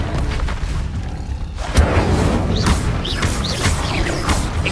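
Incendio fire spell from the video game Hogwarts Legacy bursts with a sudden booming crash, followed by crackling, whooshing impacts over a dense game soundscape.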